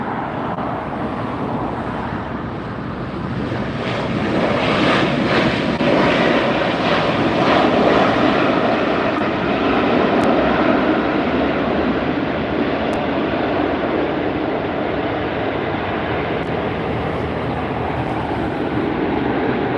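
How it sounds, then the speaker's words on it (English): At LAX, a LATAM airliner taking off and a Lufthansa airliner landing fill the air with a loud, steady jet engine roar that swells in the middle and holds as a broad rumble. "Looks like LATAM's gonna be taking off at the same time as the Lufthansa's coming in."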